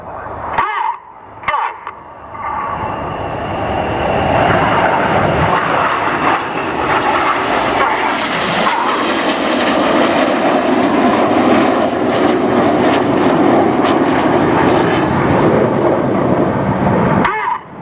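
Red Arrows jets roaring through a formation display with tight matched rolls, a loud sustained engine rumble building after a brief dip and holding steady overhead for most of the stretch.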